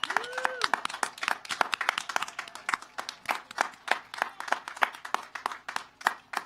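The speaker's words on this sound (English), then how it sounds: "Let's give them a round of applause." Graduation ceremony audience claps for bachelor's degree candidates, a dense run of hand claps with scattered individual slaps; a brief voice sounds at the very start.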